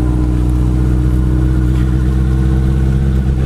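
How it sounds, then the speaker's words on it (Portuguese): A motorcycle engine drones steadily and loudly at a constant pitch while riding, a close, continuous rumble with wind noise and no talking. "eu vou dar um rolê de moto agora"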